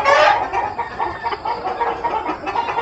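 Gilliam Roundhead gamefowl on a farm cluck in a quick, uneven run of close calls that start loudest and carry on at a moderate level, with no talking.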